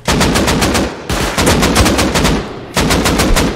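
Turret gunfire in the game Rust Console Edition, loud rapid automatic bursts in three long strings with short gaps, close and dominant with no talking.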